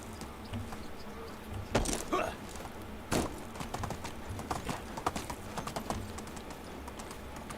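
Horse hooves galloping in the medieval farming and survival game Medieval Dynasty: a fast, steady clip-clop with a couple of heavier thuds, close and fairly loud, with no talking.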